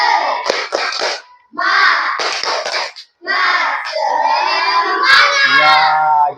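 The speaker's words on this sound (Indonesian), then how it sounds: "Oke, kita tepuk semangat dulu ya." Schoolchildren in a classroom perform a rhythmic spirit clapping cheer, loud bursts of claps mixed with shouted chanting in three close sections, ending in a continuous crowd of voices.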